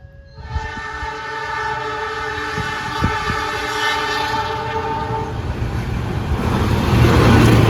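The Cikuray passenger train on an Indonesian line sounds a long, loud horn blast as it approaches, then rumbles past close by with a rising roar of wheels and cars.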